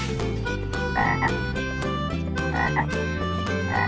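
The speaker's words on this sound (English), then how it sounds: "Green frog." Frog croaks sound in a quick repeated series over a steady background of music, loud and close, from a children's toy-animal tub scene.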